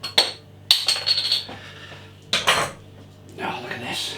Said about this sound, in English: let's get this beer out into a glass and see what we can